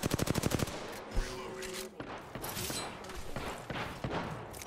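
Rapid bursts of gunfire open a ranked shooter match with a fast burst of repeated shots, followed by scattered thumps, impacts and further shots in a busy, loud game mix.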